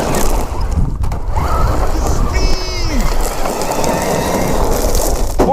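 An MJX H8H RC crawler races along in high gear, its motor whining and shifting pitch under steady rough rolling and wind noise, recorded up close at a fairly loud level.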